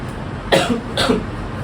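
Two harsh coughs from a sick hospital patient, close and fairly loud, about half a second apart, with no talking.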